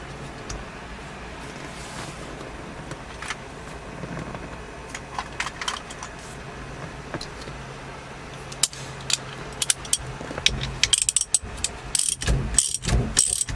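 Ratchet wrench clicking in short runs as a nut is tightened on a 1973 Ford Torino Sport fastback that sat for three years, the pawl ticks close and crisp, speeding into dense bursts near the end.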